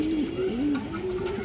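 A special Army-type working pigeon coos steadily in a low, wavering, continuous call, close and clear against a faint background hiss.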